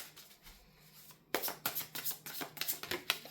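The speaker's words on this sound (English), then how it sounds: "So I'm gonna shuffle the cards and see what they tell us." Tarot cards being shuffled by hand at close range, starting after a quiet second with a run of crisp riffling and slapping bursts in an uneven rhythm, with no voice.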